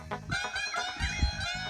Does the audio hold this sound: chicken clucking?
yes